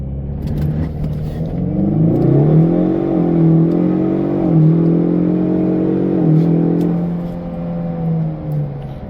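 A Ford EcoBoost car fitted with a Eurocompulsion V1 intake, running on 87 octane, accelerates hard in a 0 to 60 run, its engine note climbing steadily and loud from inside the cabin, with no talk.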